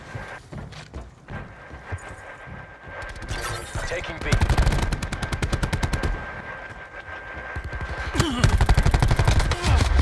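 Rapid automatic gunfire from a video game match rattles in dense bursts, loudest in the second half, with game sounds and a faint voice underneath.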